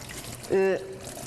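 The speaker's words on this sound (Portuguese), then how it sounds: "As mãos devem ser muito bem limpas, com água morna" Warm tap water pours over hands during a thorough handwash with soap, a short burst of running water lasting about a quarter second, close and clear above a quiet background.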